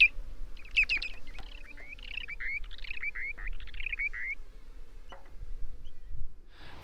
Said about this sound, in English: we got the familiar cry of a dowitcher